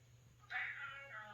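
A pet cat meows indoors: one clear, fairly close drawn-out meow that rises out of quiet room tone, followed by a softer trailing call, with no talk over it.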